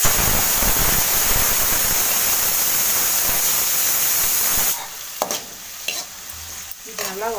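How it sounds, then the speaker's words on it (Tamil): Onions and spices sautéing in a pan for a vegetarian kurma, a loud dense close sizzle for several seconds, then dropping to quieter frying with scattered stirring clinks and scrapes. "இது நல்லா வதங்கிட்டு இருக்கு"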